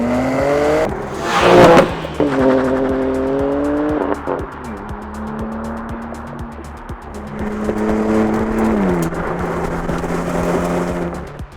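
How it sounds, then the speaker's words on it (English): A 2023 BMW M2 inline-six, tested in Arizona, growls loud and close, revving up through rising pitch, dropping back as it shifts, then climbing again under steady throttle. "there's really nothing better than a good old BMW inline sixes"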